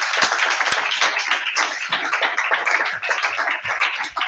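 An audience breaks into continuous, energetic applause, a dense crowd of hands clapping at steady volume throughout with no pauses.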